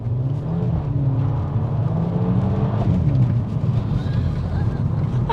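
A Mk5 Golf GTI engine pulls hard under acceleration, a steady loud drone with rising and falling pitch that holds throughout, heard from inside the car.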